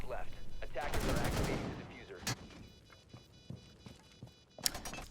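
Gunfire from a first-person shooter match, a burst of dense shots up front followed by scattered single sharp reports and a late cluster, with faint talk underneath.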